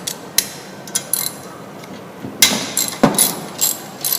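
A ratchet socket working nuts off a Mr. Roth 87cc engine during disassembly: a handful of short, sharp clicking bursts and clacks, close and fairly loud, spaced irregularly with quiet gaps between.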